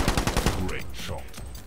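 A quick run of loud video game gunshots, rapid and evenly spaced, gives way to a muddier stretch of game noise, with faint voice-like sound mixed in.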